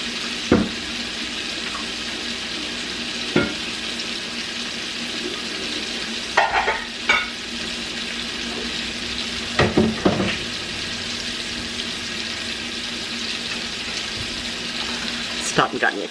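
Oil heats in a frying pan before burgers cook, giving a steady, fairly loud hiss and sizzle throughout, broken by a few scattered clinks and taps.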